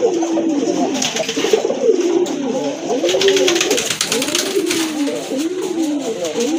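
Domestic and exotic pigeons cooing steadily at a pigeon farm, a close, continuous series of soft rolling coos from several birds with faint background noise.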